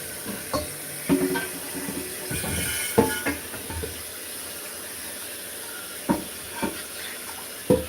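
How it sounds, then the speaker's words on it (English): Filtered water from a Brita pours and splashes into a cooking pot in a home kitchen, a steady running stream with scattered clanks and knocks from the pot. "I have a Brita filter water on it, so that's why it sounds like that"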